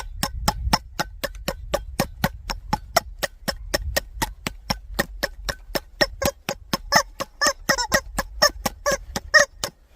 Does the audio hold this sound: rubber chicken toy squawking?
yes